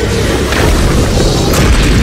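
A loud, sustained booming explosion from the video game Fortnite, Season 7, fills the short stretch with a dense low roar that keeps its level throughout.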